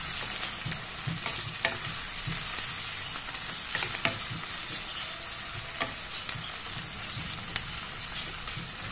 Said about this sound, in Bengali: পেঁয়াজটা একটু ভালো করে ভাজা হয়ে গেলে